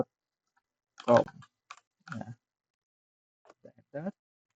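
Sparse clicking keystrokes on a laptop keyboard as a ping command to google.com is typed: a few quiet, close taps in short bursts separated by pauses.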